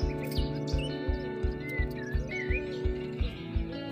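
A bird chirps near a house during installation of a water leak detector, several short tweets scattered over a steady, rhythmic pulsing hum from a nearby machine or beat.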